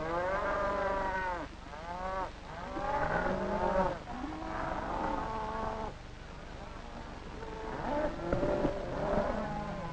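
Cattle herded by Fulani nomads in northern Nigeria, several loud drawn-out moos overlapping and repeating from nearby, with low background rumble.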